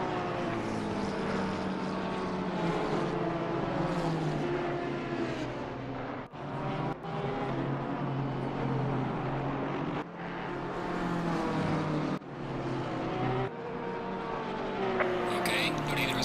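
Race cars in the Assetto Corsa Competizione sim at Kyalami, with a Porsche battling a McLaren, produce continuous high-revving engine drone with gear-shift dips and pitch changes under steady commentary.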